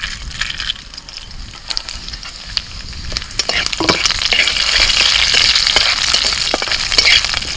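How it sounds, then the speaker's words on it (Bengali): Bay leaf, dried red chilli and five-spice seeds sputter and sizzle in hot oil in a home kitchen, a steady frying hiss that builds and grows louder with scattered crackles and pops throughout, no voices. "তেলের মধ্যে ফোড়নে তেজপাতা, শুকনো লঙ্কা আর দিচ্ছি 5 ফোড়ন"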